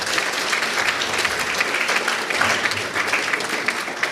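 An audience at the EHS Mesopotamia graduation ceremony breaks into loud, dense, sustained clapping that fills the hall evenly for the whole stretch.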